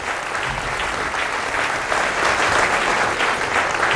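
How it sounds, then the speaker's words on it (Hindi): A studio audience at a talk show applauds steadily and loudly for the full stretch, dense clapping with no voices on top. "सारा पूरे हाउस ने आपकी बात पे ताली बजाई"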